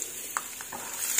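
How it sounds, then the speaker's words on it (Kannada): Peanuts dropped into hot oil on a low gas flame give a faint, steady sizzle, with a few soft splashes and stirs standing out briefly. "ಇಲ್ಲಿ ಎಣ್ಣೆ ಕಾದಿದೆ. ಇವಾಗ ಶೇಂಗಾ ಬೀಜ ಹಾಕಿ ಕರ್ಕೊಳ್ಳೋಣ."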